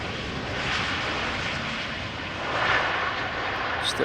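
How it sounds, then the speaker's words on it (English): A Delta Airbus A350 jet arriving from Atlanta at Amsterdam Schiphol Airport gives a steady broad engine roar that swells slightly partway through, heard from the ground at moderate distance. "we are going to see a Delta A350 coming in from Atlanta"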